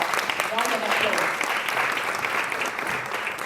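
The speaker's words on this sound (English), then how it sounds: "Round of applause." A round of applause fills the room at a women leaders' event, dense steady clapping from a crowd with a voice speaking partly over it, tapering slightly toward the end.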